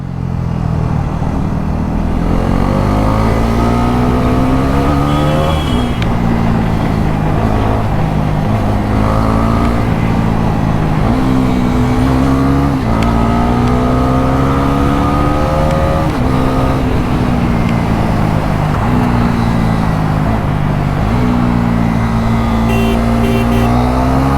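KTM Duke 390 and Bajaj Pulsar NS400 motorcycles racing, their loud, close engines droning continuously with rising and falling revs through gear changes, with no talk over them.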